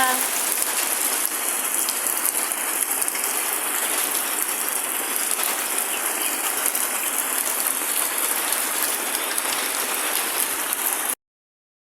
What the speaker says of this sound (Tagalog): Malakas ng ulan talaga.